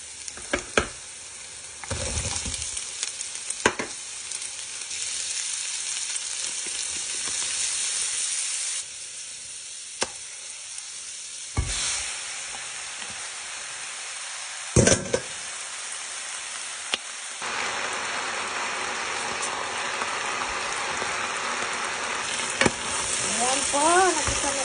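Pork shoulder, carrot and garlic sauté in a pan for pork menudo, sizzling loudly and hissing up close. The sizzle rises and falls with several bursts, with stirring scrapes and a few knocks throughout.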